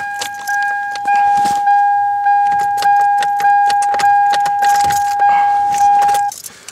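1999 Toyota Corolla being started with an aftermarket key: a steady high warning chime runs under a series of rhythmic cranking bursts and rattles, loud and close, ending as the chime cuts off.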